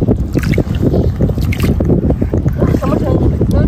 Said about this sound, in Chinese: 什么声音？ 轮船的声音吗？ 嗯， 轮船来了